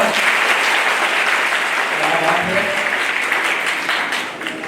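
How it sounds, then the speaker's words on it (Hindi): A college orientation program audience applauds loudly, a thick burst of many hands clapping together that holds steady and then begins to fade at the end, with a voice faintly underneath. "आपकी तालियों की आवाज से मैं जानना चाह रहा हूं कि जोश कितना है"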